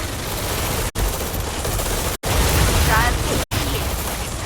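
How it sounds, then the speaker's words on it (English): Sustained gunfire in the real-time strategy video game Tom Clancy's EndWar, a dense, continuous roar of shots and bursts filling the clip, briefly cut by short silent gaps, loud and close. "They are opening fire at hostiles."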